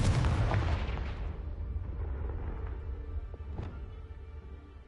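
A Confringo blasting spell goes off in the Hogwarts Legacy video game, one loud booming explosion that decays into a long rumbling tail, with a faint crackle near the end.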